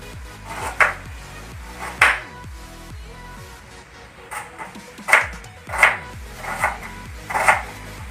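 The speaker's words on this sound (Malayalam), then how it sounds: "സവാളയൊക്കെ ചെറുതാക്കി അരിഞ്ഞാൽ മതി" Onions being chopped small on a board in a home kitchen while preparing tapioca bonda, with sharp knife strikes landing in irregular clusters, close and fairly loud, over a music background.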